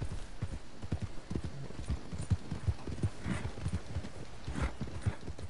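Horse hooves in the Red Dead Redemption 2 video game clip-clop in a steady, quick walking rhythm, close and fairly loud throughout, with no talk over them and a faint ambient wash in the background.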